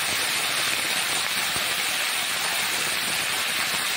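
Lentil badi (bori) frying in hot oil in a kitchen, a steady, even sizzle and hiss that holds without a break, fairly loud and close, with no talking over it.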